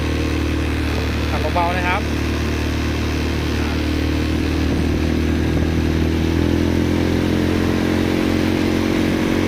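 An ATV engine in forward gear with automatic transmission idles steadily with a low, smooth drone, while someone talks over it close by.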